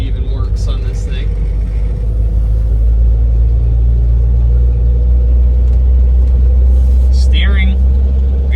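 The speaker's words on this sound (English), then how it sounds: "This motor runs really well." A car engine runs at a steady low rumble while the vehicle is driven slowly in first gear, loud and constant with the droning motor filling the cabin, and people talk over it.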